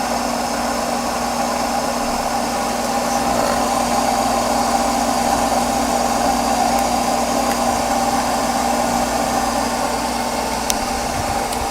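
A DC electric motor drawing 15 amps spins an alternator, giving a steady, continuous mechanical hum and whine with a low drone, unchanging and fairly loud throughout, with no voices.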